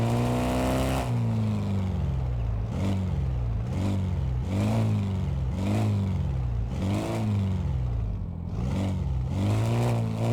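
A car engine in the Car Mechanic Simulator game revs up and down in repeated surges, loud and close, a rising and falling drone with no talk over it.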